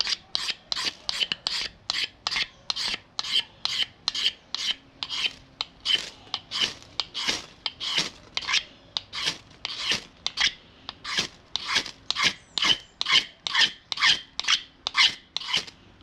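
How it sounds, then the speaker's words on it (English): A hand tool scrapes paint off a wooden handle in close, rhythmic strokes, about two per second, each a sharp rasping burst followed by a short pause, steady for the whole stretch with no talking. "So let's scrape off some of this paint."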